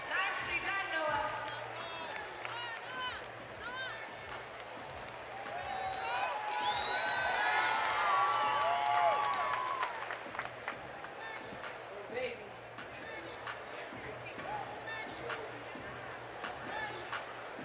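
Arena crowd at a CrossFit Games event cheers and applauds after a men's and women's competition heat, a dense roar of clapping and shouting that swells in the middle, with a voice over the noise.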